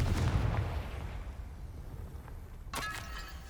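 Confringo blasting spell cast in the Hogwarts Legacy video game, a sudden burst near the end with bright crackling after low rumbling game ambience.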